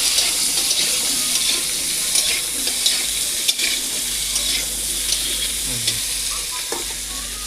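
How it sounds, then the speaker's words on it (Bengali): Pointed gourd (potol) frying in a little oil in a pan, giving a steady close sizzle with scraping stirring throughout, no voices. "হালকা করে একটু তেল দিলাম, দিয়ে পটলটা ভেজে নিচ্ছি।"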